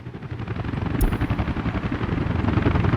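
Helicopters in the Soviet city-building game Workers & Resources: Soviet Republic give a steady, dense rotor chop that runs throughout at a fairly loud, constant level, with no talking.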